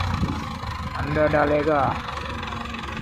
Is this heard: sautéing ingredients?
no